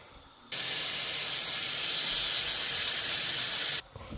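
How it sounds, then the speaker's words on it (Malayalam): Cut broccoli being washed under a running tap: a steady, loud rush of water that starts abruptly, flows evenly for about three seconds, then cuts off. "ഞാൻ ബ്രോക്കോളിയൊക്കെ മേടിച്ചൊന്ന് കട്ട് ചെയ്ത് ഇനി ഒന്ന് വാഷ് ചെയ്യണം"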